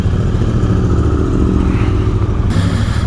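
A Triumph T120 motorcycle engine pulls away up close, a loud, rumbling twin-cylinder drone building steadily, with a brief change near the end as it shifts.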